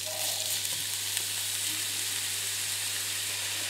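Onion sizzles steadily in hot oil in a wide frying pan over medium heat, a continuous dense crackle and hiss at close range with no pauses.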